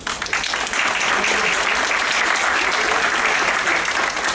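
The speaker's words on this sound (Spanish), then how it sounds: "para quien pido un aplauso" Steady, dense applause from an audience at a municipal transparency training event in San Pedro Tlaquepaque, sustained and fairly loud throughout with no pauses.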